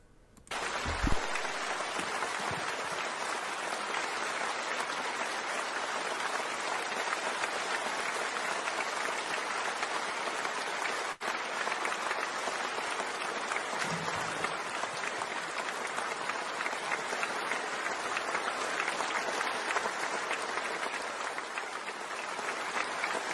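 Delegates in a large hall applaud after a vote for Xi, a sustained, even roar of many hands clapping that stays steady for over twenty seconds without letting up.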